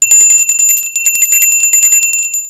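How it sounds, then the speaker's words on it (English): An office bell rings in a rapid, continuous metallic trill for about two and a half seconds, bright and close, with nobody talking. "Scrooge and Cratchit return to their labors, but are soon interrupted by the bell."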